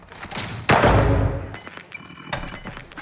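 A flashbang grenade going off in Call of Duty: Modern Warfare, one sudden loud bang with a sharp blast that decays over half a second, followed by scattered clicks and faint ringing.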